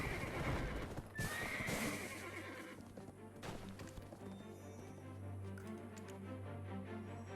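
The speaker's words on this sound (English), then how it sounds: "We're gonna ride our horse." Horse in the video game Black Desert whinnying and neighing loudly at the start, then steady hoof clip-clop of galloping continues over low music throughout.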